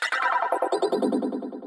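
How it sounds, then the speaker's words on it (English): The Serum synth lead preset Looping Glass gives a glassy, bouncing tone, a rapid pulsing run of repeated notes that slides downward in pitch over under two seconds. It plays alone and up close. "I've went with the preset called Looping Glass"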